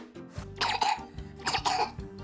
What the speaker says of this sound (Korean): 너 왜 또 기침해?